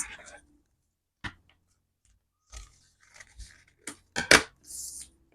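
Scissors cut through folded fabric while sewing a palazzo trouser and bralette beach set, giving a few short, close snips and crisp tearing-like cuts spread across the clip, with quiet gaps between them.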